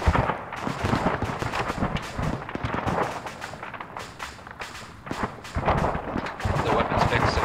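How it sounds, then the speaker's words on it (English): Gunfire crackles from inside a compound during a military assault, with dense, overlapping shots and bursts coming in rapid, uneven volleys at fairly close range, filling the scene continuously with no pause for speech. "We're getting shot at from inside the compound. Yeah. We're hearing lots of fire."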